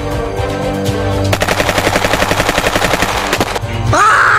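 Rapid automatic gunfire in a video game, a steady close burst of evenly spaced shots lasting about two seconds, framed by droning game sound before and after.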